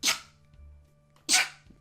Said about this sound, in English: Cutest sneeze in the world.